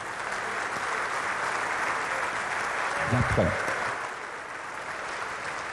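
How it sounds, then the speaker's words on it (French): An audience applauds miners' singers at a ceremony at the Merlebach headquarters, sustained even clapping throughout, with a brief spoken phrase partway through. "Je demanderai à votre public et aux mineurs amis qui sont ici de vous applaudir une fois de plus"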